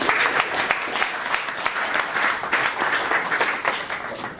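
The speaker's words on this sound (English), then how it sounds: "Round of applause." A room full of people at a tech demo event claps in a dense, steady burst of applause that holds evenly for several seconds without talk over it.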